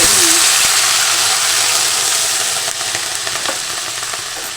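Water poured into a hot pan of frying potatoes and spices sets off a loud, dense, continuous sizzle that eases slightly after a few seconds, while cabbage and rohu fish-head ghonto cooks.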